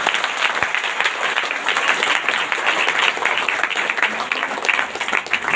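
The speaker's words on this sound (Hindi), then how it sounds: "जोरदार ताली से धन्यवाद।" Church congregation at a Sunday prayer service applauding loudly, a steady dense clapping that holds throughout with no talk over it.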